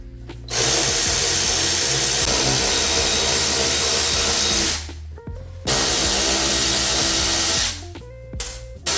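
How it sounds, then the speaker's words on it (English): A cordless power drill runs in two long bursts with a short pause between, close and loud, while a BMW 335i headlight is being worked on; a quick blip follows near the end. "Where's my drill? It's quick."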